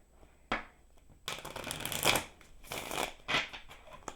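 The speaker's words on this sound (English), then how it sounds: "I think I want to shuffle it one more time." Tarot cards being shuffled by hand: a sharp riffle snap, a pause, then several bursts of papery flutter and slapping, close and fairly quiet, with no talk.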